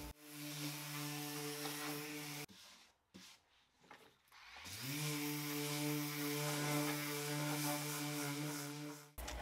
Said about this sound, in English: I'm stripping back the top using 150 grit sandpaper.